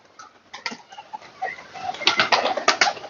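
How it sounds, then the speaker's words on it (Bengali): Fancy pigeons emerge with soft, low coos and bursts of wing flapping that grow busier and louder toward the end of a short stretch. "তো অলরেডি সব পায়রা আস্তে আস্তে বেরোচ্ছে"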